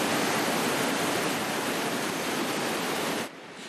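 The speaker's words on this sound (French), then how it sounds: "Le débit de l'eau est impressionnant et quand on s'approche, le bruit assourdissant." Floodwater swollen by heavy rain roars through the Chaudron ravine in a loud, continuous, close rushing wash that drops away abruptly just before the end.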